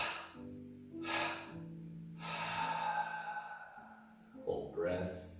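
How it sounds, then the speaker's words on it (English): Three slow 'ha' exhalations during a guided breathing and dance flow session, spaced a second or more apart with soft breathy bursts and a low hum between them. "Breathing out 3 times, making a ha sound."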